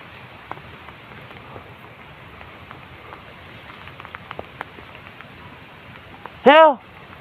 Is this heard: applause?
no